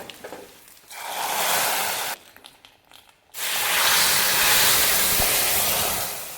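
A hot tempering of mustard seeds, garlic, shallots and dried chillies is poured into sambar, giving a loud hissing sizzle that breaks off briefly and then returns strong and steady.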